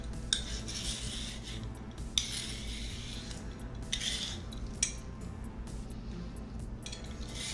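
Lesser yam (củ từ) being grated into shreds in a home kitchen, a steady close scraping rasp with light metallic clinks, continuing without talk.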